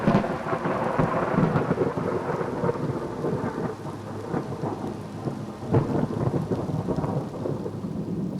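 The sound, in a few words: thunderstorm with thunder and rain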